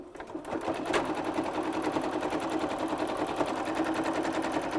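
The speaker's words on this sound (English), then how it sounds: "pressing gets your sewing machine going" A sewing machine runs steadily at a fast, even stitching rhythm, starting with a brief click before settling into a continuous mechanical whir.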